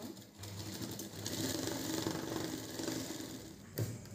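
An electric sewing machine stitches a brassiere in a tailoring class, a soft, quiet whirring run lasting several seconds with a faint knock near the end.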